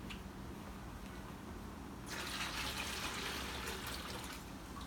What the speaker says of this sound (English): Putting that in a commode toilet.